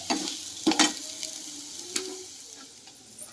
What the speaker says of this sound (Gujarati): તો આજે મેં નાસ્તામાં બનાવી છે વઘારેલી રોટલી